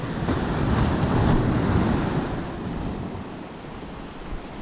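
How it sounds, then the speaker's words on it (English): A big ocean wave breaks on a New Zealand beach near a man-made surf reef, a broad roaring wash that builds, peaks and slowly recedes into softer surf hiss amid wind noise, with no talk. "Oh, that's a big wave."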